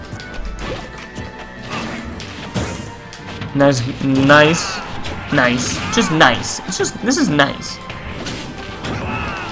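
Repeated heavy smash hits from Super Smash Bros. Captain Falcon and Shulk matchup, loud cracking impacts amid game effects and crowd noise, with a commentator talking throughout.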